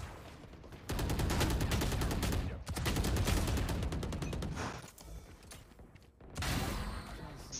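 Shotgun blasts in a Valorant ranked match, dense bursts of rapid loud gunfire filling most of the stretch with short gaps between volleys, close and sharp, no talking over it.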